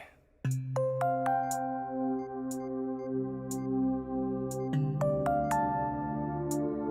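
A phone ringtone plays a repeating chiming melody of bright, sustained tones, fairly close and clear, with no talking.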